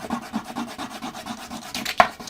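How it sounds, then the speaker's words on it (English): A colored pencil rubs back and forth on paper with medium pressure, laying in foreground dirt on a cactus drawing, making quick rhythmic scratchy strokes close up that end in one sharper tap. "I'm going to color with a medium pressure on the foreground dirt."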